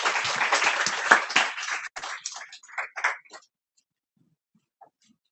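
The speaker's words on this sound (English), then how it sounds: "So please give her a round of applause." Audience applause at a townhall talk, a dense burst of clapping for about two seconds that thins into scattered claps and dies out, leaving near silence with a faint stray sound near the end.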